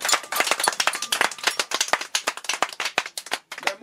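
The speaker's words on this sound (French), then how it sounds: "On applaudit." An audience claps at a traditional gathering in Côte d'Ivoire, with sharp, uneven claps from a small group that keep a loose, lively rhythm for a few seconds.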